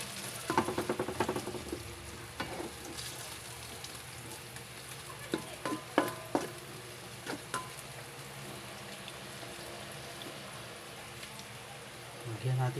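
Ampalaya con carne, bitter melon with meat, frying in a pan with a steady close sizzle, broken by scraping and stirring knocks and clatters of a utensil against the pan, with brief talk nearby.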